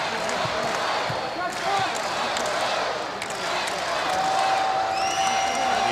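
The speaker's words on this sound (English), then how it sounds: "You hear the chant of the crowd." An arena crowd at a Hawaii versus Stanford men's college volleyball match keeps up a steady roar and chant, with ball thumps and a whistle tone standing out, and a commentator talking over it.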